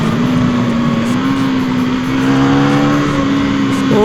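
A 2024 KTM Duke 390 motorcycle engine revs steadily and loudly up close as the throttle is held open, its droning tone climbing near the end with a rising whine.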